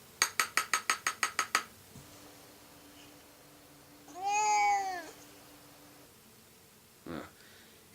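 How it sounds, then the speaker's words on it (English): A cat in a 1964 Christmas film meows once, lured with a can of tuna; the drawn-out meow follows a quick run of sharp metallic taps and is near and clear. "Must be the days when you couldn't just lure a cat in with a can of tuna like"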